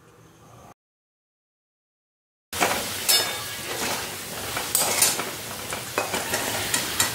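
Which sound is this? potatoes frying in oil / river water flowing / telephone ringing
potatoes frying in oil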